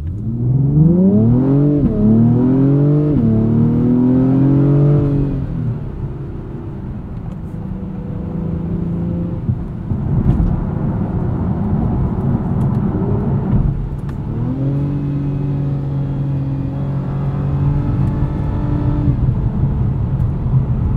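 A 2024 Acura TLX Type S in Sport Plus accelerates hard, its engine note climbing loudly through rising revs with shift breaks between pulls, then easing into a steadier drone before revving up again.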